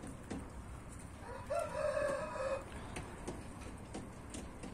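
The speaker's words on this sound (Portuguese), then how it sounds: "Coloquei o Red mais alguns frangos e alguns galos" A rooster crows once in the middle distance, a single drawn-out call of about a second rising above a steady background of outdoor noise and faint ticking, with no talking.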